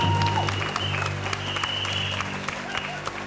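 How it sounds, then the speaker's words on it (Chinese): An audience at a stage variety show claps in a brief, moderately loud burst, with a steady tone and some voices running underneath. "拍手"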